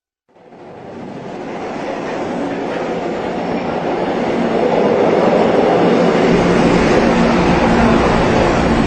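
Subway train rumbling and clattering along the tracks, fading in and then holding a loud, steady roar with faint wheel squeal over nearly nine seconds.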